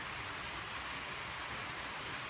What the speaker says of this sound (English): Wow, it's actually raining way bad.